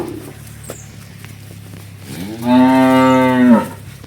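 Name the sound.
dairy cow mooing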